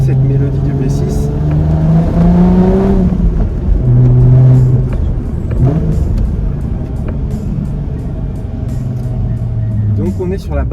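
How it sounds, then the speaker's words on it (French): A Chrysler Crossfire's 3.2-litre V6 engine revs up and down repeatedly, loud and close, its pitch rising and falling in strong bursts. "Je vous laisse un peu écouter cette mélodie du V6."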